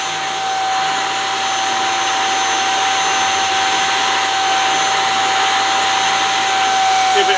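Portable carpet spot cleaner running, a loud, steady motor whine with an even hum that holds unchanged from start to finish and has no voices over it.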